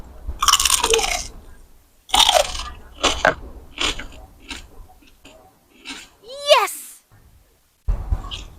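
Crunchy bites into crispy homemade Thai pork belly crackling, loud and close, with separate crackling crunches and chewing spread across several seconds, interspersed with quiet gaps and a short vocal sound.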